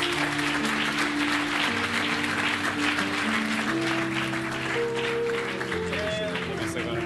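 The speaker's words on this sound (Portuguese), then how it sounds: "Aquele que recebeu a palavra, glorifica a Deus com as palmas," A church congregation clapping hands in praise, a continuous, loud wash of applause over sustained organ or keyboard tones, with voices underneath.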